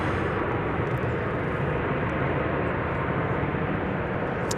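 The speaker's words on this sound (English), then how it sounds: "It's American Flight 389 going to Mexico City right there." An American Airlines Boeing 737-800 airliner passes at an airport, its engines a loud, steady broadband roar that holds unchanged throughout with no voices over it.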